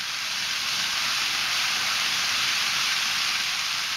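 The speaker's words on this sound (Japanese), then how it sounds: "線路の上の列車は、何も気にすることなく走っていきます" An N gauge model Shinkansen running on a layout track, giving a steady, continuous high hiss and whir with no breaks, moderately loud and close.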